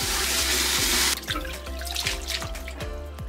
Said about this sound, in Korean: 바로 찬물에 담가서 헹궈서 차게 식혀준다.